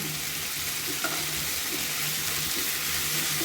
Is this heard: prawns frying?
yes